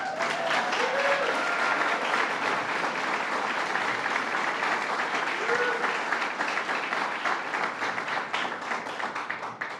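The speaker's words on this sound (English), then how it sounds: "You could not give a round of applause for Earth Day." Sustained applause and clapping from an Earth Day audience gathered in a museum in Kingston, dense and steady for about ten seconds, with a faint murmur of crowd voices underneath.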